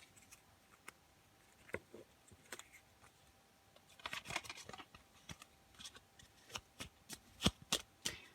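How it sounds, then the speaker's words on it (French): Oracle cards being shuffled by hand before a draw, soft papery riffles and taps close to the microphone, sparse at first and then quicker and denser, with no talking. "on va tirer une autre carte du petit oracle de la forêt"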